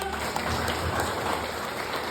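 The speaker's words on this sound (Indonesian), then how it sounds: "Tepuk tangan untuk Tuhan kita." A congregation applauding in a Javanese church service: a dense, continuous, rain-like wash of clapping hands at moderate loudness, with no clear gaps or single claps standing out.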